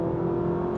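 A Honda Accord RS e:HEV hybrid car accelerating, heard as a steady, close, even hum with a whirring tone that holds without a break.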